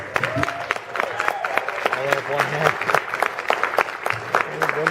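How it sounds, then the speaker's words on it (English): A crowd at a guest-of-honor panel at the 2013 Megaplex convention applauds, with scattered sharp claps and a few cheers ringing out while voices carry on beneath the clapping. "Let's have a round of applause for Rhubarb."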